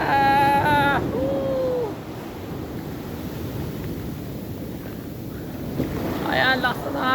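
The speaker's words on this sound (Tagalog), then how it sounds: "Yan pa oh, parating ang malaking alon." Big ocean waves in strong currents at San Juan, La Union, surge and crash in a steady roar over gusting wind, with a person whooping excitedly at the start and end.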